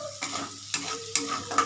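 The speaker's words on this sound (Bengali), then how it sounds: "এটা হালকা লাল করে ভেজে নিচ্ছি এটাকে" Gobindobhog rice being fried lightly in oil, with stirring scrapes recurring every half second or so over a low sizzle, close and fairly quiet.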